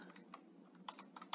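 Faint, close keystrokes on a computer keyboard, several quick light clicks in an uneven rhythm over a quiet background.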